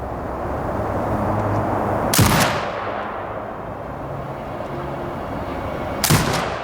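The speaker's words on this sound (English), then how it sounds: "Exit binocular mode and command the turret to fire." In the shooter game Sniper: Ghost Warrior Contracts 2, a turret fires two heavy, booming shots about four seconds apart over a low steady rumble of background ambience.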